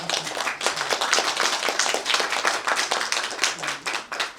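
An audience at the JBL Summit series launch event claps, a close, brisk patter of many hands that stays moderately loud throughout.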